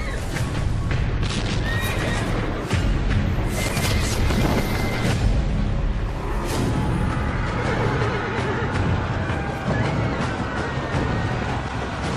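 Horses from an Indian Army cavalry regiment neigh and whinny repeatedly over a loud, continuous background of hooves and outdoor bustle, lasting throughout with no clear talk.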